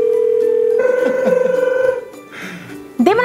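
A phone call being placed: a steady ringing tone with a repeating pulse, fading after about two seconds, followed by a voice answering on the line.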